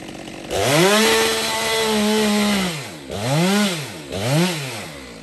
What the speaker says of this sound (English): I use the sawmill to meet up with this cut I just did with the chainsaw